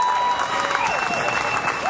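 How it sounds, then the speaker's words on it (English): A crowd at an outdoor equality rally in Chicago breaks into steady, loud applause, a dense wash of clapping with a few cheers and whistles for the whole short stretch. "You can clap for that."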